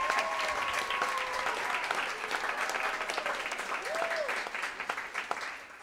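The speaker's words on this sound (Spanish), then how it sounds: "Aplaudo." Applause from a concert audience at a cantata performance, sustained dense clapping for several seconds under a host's voice.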